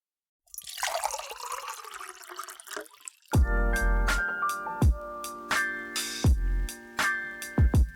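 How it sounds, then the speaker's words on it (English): Coffee poured into a cup, a steady liquid trickle and splash that gives way to a run of close, ringing clinks and taps of ceramic, with no talking. "Pour the coffee."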